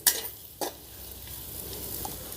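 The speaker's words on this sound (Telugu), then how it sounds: "ఇలా మెల్లిమెల్లిగా ఇలా కలుపుకుంటూ ఫ్రై చేసుకుంటే" Spiced potato pieces fried and stirred in a pan: two quick scraping strokes near the start, then a quiet, even sizzle.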